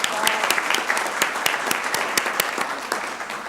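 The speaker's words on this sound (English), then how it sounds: "Let's give them a round of applause." An audience at a city council meeting applauds with a burst of many sharp, overlapping claps that stays fairly steady for a few seconds before easing slightly, with no voices over it.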